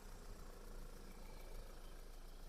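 A 2014 US-market Audi A4 B8 S-line quattro with a 2.0 turbo engine idles as a faint, even, low hum with a slight steady vibration and no revving.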